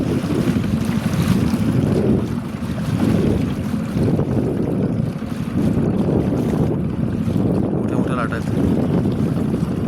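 Strong wind roars continuously across the microphone on a boat on the Narmada River, with loud gusty rumble and a steady engine-like drone on open water.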